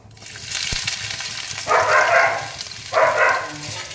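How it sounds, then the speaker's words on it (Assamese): Onions dropped into a hot wok with ajwain seeds, giving two bursts of loud crackling sizzle after a low steady background hiss, with no talking. "এতিয়া মই ইয়াতে পিঁয়াজখিনি দি দিছোঁ।"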